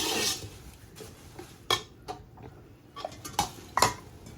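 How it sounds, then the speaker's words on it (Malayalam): Flattened rice (aval) being stirred in a pan gives sparse, close metallic scrapes and clinks of a spoon against the pan, separated by short quiet gaps, with only a faint sizzle underneath. "ഇനി ഇളക്കി ഇളക്കി സെറ്റാക്കണം"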